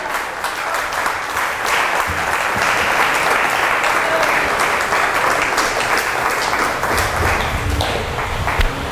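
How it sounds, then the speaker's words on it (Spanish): Sustained applause from a church congregation, dense and steady clapping filling the whole stretch at a strong, even level. "Dale un aplauso al Señor."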